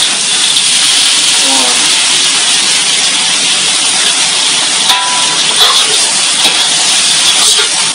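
Crayfish tipped into hot oil with garlic, dried chili and onion set off a loud, continuous hiss of frying that fills the space steadily, with a few faint clatters near the end.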